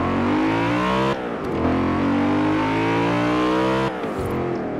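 A race car in Forza Horizon 4 revs loudly and climbs through the gears, the pitch rising and then dropping sharply at two quick upshifts, with no voices over it.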